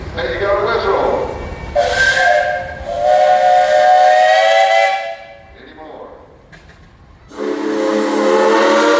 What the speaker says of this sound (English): Hey, you got a whistle.